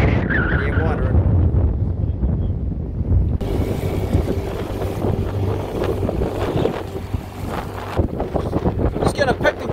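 A small boat heading for shore through waves, with wind buffeting the microphone and a steady engine drone that rises and falls as the hull slaps and rides over the swell, with a voice briefly audible at the start.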